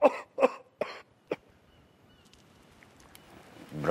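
A man coughs four times in quick succession during a doctor's examination, close and clear, and a faint rustle and quiet room noise follow.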